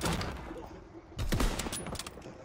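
Sniper rifle fire in a WWII-era multiplayer video game, with loud sharp shots and a heavier burst of gunfire near the middle, close and dense over a busy battle mix.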